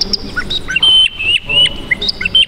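A person imitates bird calls with rapid, high chirps and warbling tweets in short bursts, fairly close and loud.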